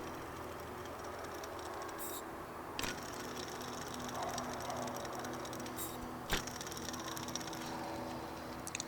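A worn auxiliary belt tensioner pulley from a Mercedes OM646 diesel in a C220 CDI W203 is spun by hand, producing a faint, steady gritty rattle with two sharp clicks and no talking.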